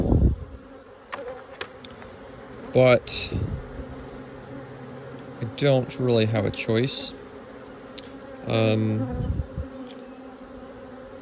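Bees buzz steadily nearby around a small multi-queen nuc hive while a person talks intermittently over them.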